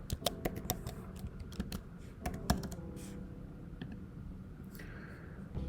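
Rapid, uneven keystrokes on a computer keyboard, close and crisp, clustered in the first three seconds with scattered taps after, no talking.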